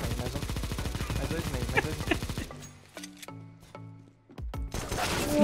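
Gunfire in Counter-Strike, including P250 pistol shots, comes as rapid bursts of loud cracks over dense game audio and music, followed by a few separate sharp shots in a quieter stretch.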